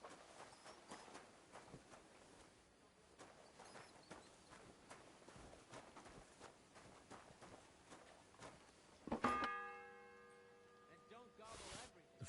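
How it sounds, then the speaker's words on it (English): A single bell strike in Kingdom Come: Deliverance II, a sharp ringing tone that decays over a couple of seconds, heard after a stretch of soft ambient ticks and footsteps, followed by another brief burst. "The first bell."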